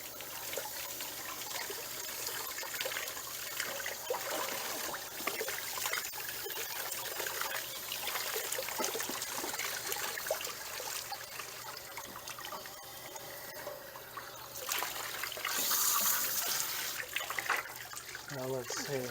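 Water trickling and splashing as an RV water heater is flushed out into a bucket, a continuous uneven pour with bursts of louder gushing near the end, mixed with faint handling noises.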